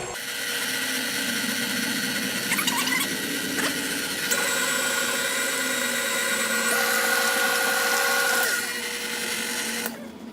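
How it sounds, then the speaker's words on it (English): A blender running steadily as it smooths cream cheese for a cheesecake batter, a loud continuous whirring motor with grinding, rattling texture that shifts pitch partway through and cuts off at the end. "You want to blend it until it's fully smooth."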